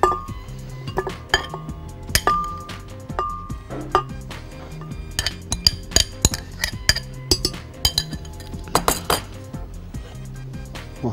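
Vanilla ice cream is scooped into a glass for a coffee milkshake, with repeated clinks of a metal utensil against glass and dishes in a close, busy rhythm.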